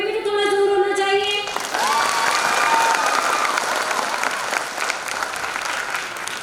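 Steady, loud applause from a large crowd at a 75th Corps Day diamond jubilee celebration, continuous clapping filling the hall after a brief musical tone fades at the start.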